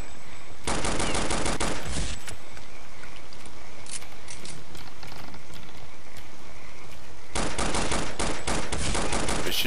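Loud machine-gun fire in Counter-Strike: Condition Zero rattles in two long, close bursts, one early and one near the end, with a quieter stretch of game ambience and scattered shots between them.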